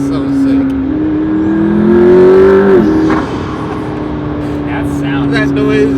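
A car engine drones and revs up, rising in pitch before dropping back, heard loudly from inside the vehicle through its roof scoop, with a voice briefly audible.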